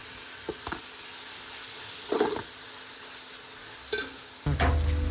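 Onions and green chilies sauté in a pan for a fish biryani, a steady soft sizzle broken by a few scraping stirs, with a louder clatter of ingredients near the end.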